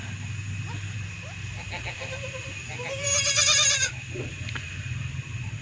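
Goats on a goat farm in Hazro, Attock, with a loud wavering bleat near the middle over steady farmyard background noise and fainter animal calls around it.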